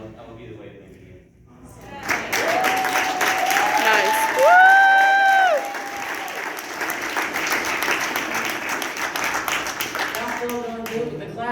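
Audience applause at an open mic session hosted by a local police department: sustained clapping from a crowd, swelling and holding steady for several seconds, with a brief spoken remark and a faint tonal sound over it.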